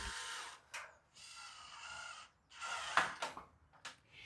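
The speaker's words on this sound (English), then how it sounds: "You will need a 10mm spanner or a socket on the drill like Duncan is using" Power drill fitted with a socket tightening nuts onto bolts while a Halls 8x6 greenhouse frame is assembled, sounding as several short whirring bursts separated by brief pauses, fairly close.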